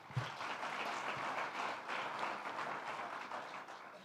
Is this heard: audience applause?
yes